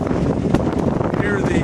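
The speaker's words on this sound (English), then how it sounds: "You can probably hear the wind noise right out of the cooler" A strong south wind blows straight across the microphone beside a greenhouse, producing a loud, continuous rumbling buffet that fills the whole moment.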